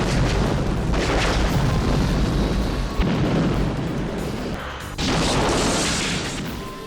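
Large-scale film explosions in a Moroccan desert landscape for the Bond film The Living Daylights: a loud, roaring blast sequence with fresh heavy booms about every two seconds, each trailing into rumbling debris.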